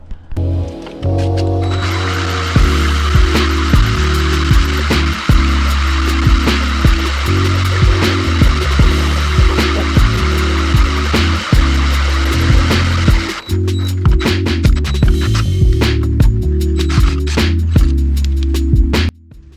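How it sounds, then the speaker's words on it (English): A drill bores a hole through a steel leaf spring mount to take a sleeve. The loud, close motor whine runs almost continuously, with rhythmic pulsing as the bit bites, a brief pause midway, and no talk. "got the hole drilled all the way through and cleaned up so the sleeve slides in and out nice"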